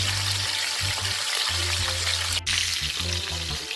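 Fish fries in a pot, with a continuous loud bubbling sizzle close by and a brief dip partway through.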